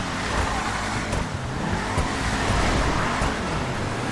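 Engine of a car in a banger racing video game, a steady loud roar with broadband road and tyre noise, the back end drifting, continuous with no talk.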